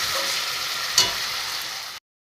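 Pointed gourd (potol) and potato being fried with masala in oil, for a curry with halved eggs: a dense, steady sizzle with one sharp knock of the spatula partway through, then an abrupt stop.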